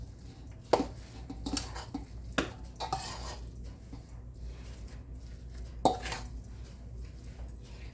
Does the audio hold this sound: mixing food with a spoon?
yes